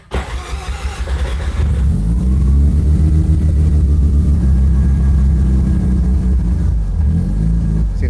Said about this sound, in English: See, it still hunts a little bit, but then it'll eventually find its groove and idle down.